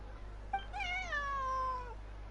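A cat meows in the Genshin Impact video game, one clear, drawn-out, rising-then-falling call that sits close and loud against a quiet background with no talk.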